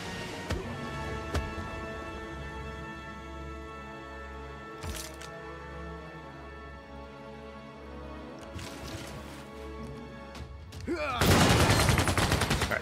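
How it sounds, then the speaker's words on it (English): Artillery units fire on enemy troops in Civilization VI, with repeated gunfire cracks and booms over a steady game soundtrack, capped by a loud, dense burst of blasts near the end. "I kind of want to go ahead and kill off these guys with this artillery"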